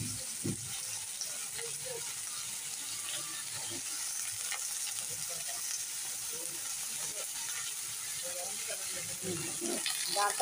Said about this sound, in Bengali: ডাঁটা আলু এই পেঁয়াজ আলু একসঙ্গে কড়াই দিয়েছি